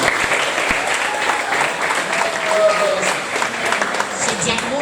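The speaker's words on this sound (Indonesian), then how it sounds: "Tepuk tangan dulu buat Kak Mama." Steady audience applause at a school event in Kaimana, West Papua, a dense wash of clapping hands that holds at an even, fairly loud level throughout with no pauses.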